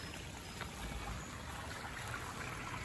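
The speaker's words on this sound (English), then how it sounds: "the pump that's taking all the water out and dumping it into the top of the Bakki shower" Water from a pond pump pours steadily into the top of a DIY Bakki shower filter, a continuous splashing trickle close by, with no one speaking.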